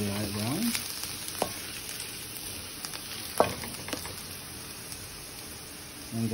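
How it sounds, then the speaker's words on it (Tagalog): Garlic sautés in hot oil for a Filipino bean sprout and tofu dish, giving a continuous close sizzle and crackle with occasional sharp clicks of a utensil stirring in the pan. "igisa muna natin ang bawang hanggang sa maging light brown"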